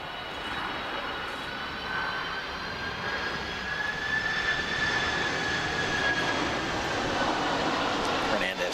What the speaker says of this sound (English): to let the big Delta jet pass by